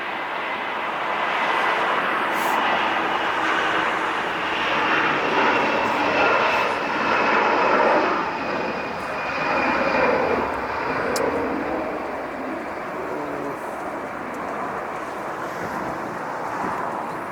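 Jet airliner engines roar steadily as medium-sized planes arrive at LAX, a loud continuous rumble that swells and eases slightly while aircraft pass, with light wind noise and no talking.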